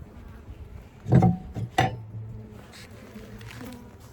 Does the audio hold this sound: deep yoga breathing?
no